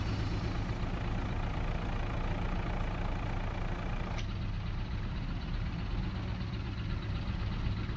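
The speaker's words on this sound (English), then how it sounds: "We'll leave the engine running." A tractor engine idles in Farming Simulator 22, a steady low rumbling drone held at an even level throughout, close and constant with no talk.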